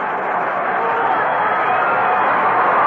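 Dense, steady crowd roar at a Cubs at Phillies baseball game, a broad wash of many voices building slightly louder toward the end, heard alone without a distinct announcer voice.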